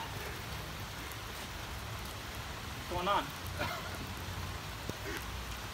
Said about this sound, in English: Can't play in this rain.